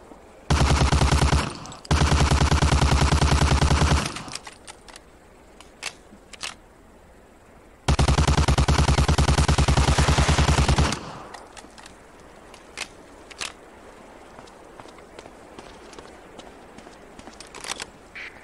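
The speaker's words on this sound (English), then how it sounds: "Shoot that target 20 times with the Thompson." Thompson submachine gun firing at a practice target in Medal of Honor: Allied Assault, two long, loud sustained automatic bursts separated by a pause, followed by scattered clicks and clatter.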